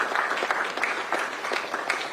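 Audience applause at a youth-focused event in Ghana, a steady mid-level wash of clapping that runs for a couple of seconds without voices.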